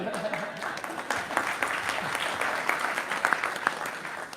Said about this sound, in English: Sorry, I cut off your applause.